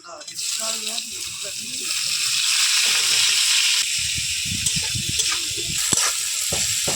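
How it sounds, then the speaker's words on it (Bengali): Bay leaf, chili and chopped onion frying in hot oil, a strong, continuous hiss close by with scattered spattering crackles, while a voice speaks over it. "পেঁয়াজটা হালকা লাল করে ভেজে নেব"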